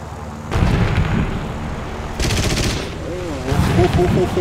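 Rapid bursts of aircraft machine gun fire in the video game War Thunder rattle over a loud engine drone, with a warbling electronic tone sounding briefly between volleys.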